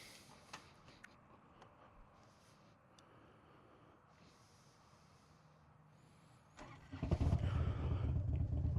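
A motorcycle that has just been shut off restarts while still hot near the end, and its engine quickly swells into a loud, close roar as it rides away. Several quiet seconds of outdoor background come before it.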